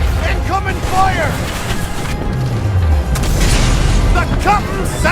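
Ship broadside cannon fire in a VR pirate battle game, deep booming blasts rolling under wind and sea noise, with shouted voices and crew chatter throughout.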